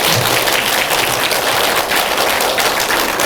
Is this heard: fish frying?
no